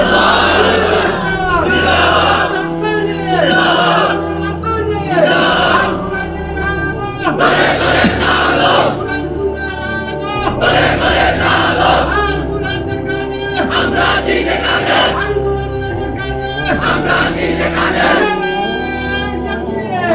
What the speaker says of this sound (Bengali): তোমরাই স্লোগান দাও, তোমরাই তাকবীর বলো